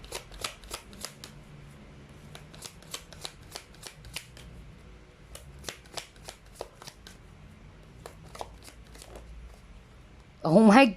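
Tarot cards being shuffled by hand, a rapid series of crisp riffling snaps and slaps at close range, followed by a brief louder burst of voice at the end.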